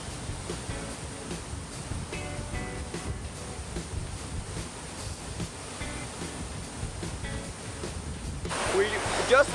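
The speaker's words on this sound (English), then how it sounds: "Wow, this waterfall is huge." A continuous broad rush of a large Oregon waterfall fills the scene, steady and enveloping, with faint indistinct voices now and then.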